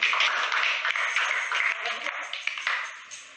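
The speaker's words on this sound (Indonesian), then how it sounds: "Tepuk tangan bagi orang kita." Church congregation applauding in a steady, moderately close wash of claps that tapers off toward the end, with no talking over it.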